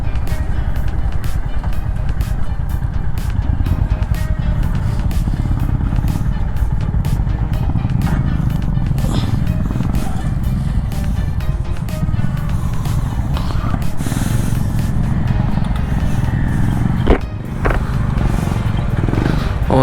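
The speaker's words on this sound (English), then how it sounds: "All the motorcycles joining in here now." Several Honda Big Wing motorcycles arrive and regroup on a scenic ride from Mangalore to Madikeri; their engines drone steadily nearby for about twenty seconds, with a few sharper passing bursts.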